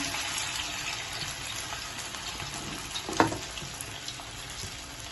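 Hash brown frying in hot oil, a steady close sizzle and crackle with a brief sharp clatter partway through, no voices.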